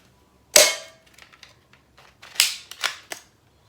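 M43 Gilboa gel ball blaster firing: one sharp, snappy pop, then small mechanical clicks and a quick cluster of clacks from loading the next round, all close and dry with no speech.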